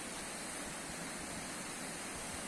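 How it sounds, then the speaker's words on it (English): The Palmiet River in flood, rushing water making a steady, dense broadband roar with no breaks, heard alone without voices. "here you see how truly, truly scary the Palmiet River can be"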